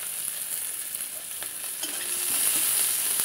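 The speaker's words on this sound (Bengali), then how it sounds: "রসুন পেঁয়াজটা একটু ভাজা ভাজা করে নিই।" Onion and garlic frying in hot oil in a pan, a steady bright sizzle with occasional stirring scrapes, close and continuous, growing slightly louder toward the end, no voices.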